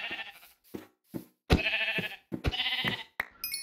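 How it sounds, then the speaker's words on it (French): Minecraft sheep bleat in quick succession near a beach, several loud, close, nasal bleats separated by short silences with no talking. "c'est l'invasion de moutons ici"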